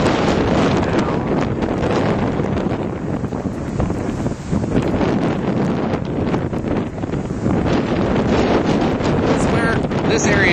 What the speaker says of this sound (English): wind picks up, and then it goes down, and then it picks up, and down.